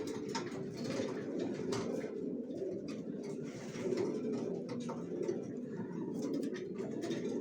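Racer pigeons, a female among them, coo in a dense, continuous low murmur from several birds close by, steady throughout with no talking.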